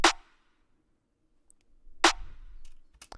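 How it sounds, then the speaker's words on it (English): Two sharp drum-machine claps in a dark trap beat ring out about two seconds apart, each with a short decaying tail and a few faint ticks after. "Then you can get yourself some basic claps, the claps."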